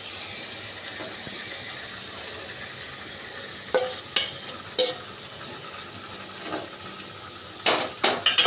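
Marinated chicken in yogurt and salt added onto spices in a pan for a methi chicken curry, with a steady close sizzle, stirring scrapes and a few sharp clatters of the utensil against the pan.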